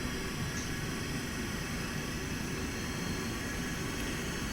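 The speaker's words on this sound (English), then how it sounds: "And then we're going to throttle up, get our spoilers in, and we're ready to roll." A SEPECAT Jaguar jet in Microsoft Flight Simulator throttles up, giving a steady, dense engine roar with a high whine that holds evenly throughout and no voices.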